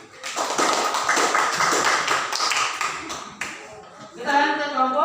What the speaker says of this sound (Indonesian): Mari kita memberikan aplaus untuk kelompok 1 dulu.